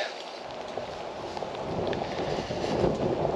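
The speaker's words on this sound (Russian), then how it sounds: "ветер ледяной" Steady cold wind buffets the microphone outdoors in a Crimean garden, a continuous rushing roar that grows slightly stronger toward the end.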